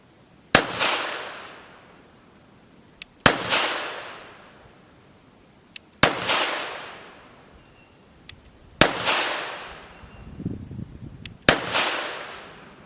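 Five sharp, loud gunshots from a Smith & Wesson M&P 22 Magnum pistol, evenly spaced about three seconds apart, each with a decaying ring-out, plus a faint metallic clink between some shots.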